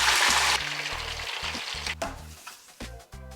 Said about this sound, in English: we got flour sizzling by a landslide